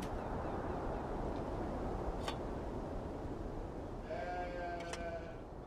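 Navajo-Churro sheep bleat on a ranch in the video game Beyond Two Souls, with one or two faint, brief bleats over a steady rushing background, somewhat distant.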